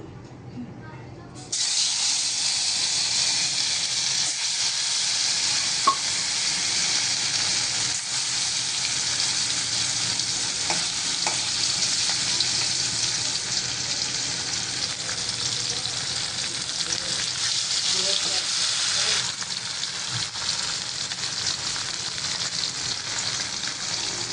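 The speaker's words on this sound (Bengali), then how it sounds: "এই যে কড়াই তেল দিয়ে দিছি আর তেলটা হয়ে আসছে গরম তো এখন আমি মাছ দিয়ে দিব" Spiced pomfret fish frying in hot oil in a wok sets off a loud, steady hissing sizzle that begins after a short quiet start and runs on with a few faint clinks.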